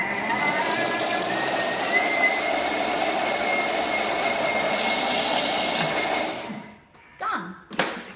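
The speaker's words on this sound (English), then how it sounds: "now we're going to blend it up. So excuse the noise for just 30 seconds." A kitchen blender whirs steadily with a loud, even motor drone while blending a chocolate brownie mixture, then cuts off near the end, leaving a few faint handling knocks.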